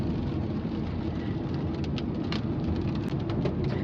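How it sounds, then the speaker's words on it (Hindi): Light rain falls outdoors at the India Habitat Centre in Delhi, a dense, continuous hiss with a low rumble underneath and a few scattered drip ticks. "ये सुंदर सी बारिश हो रही है अभी, बहुत ही ऐसी हल्की हल्की सी हो रही है।"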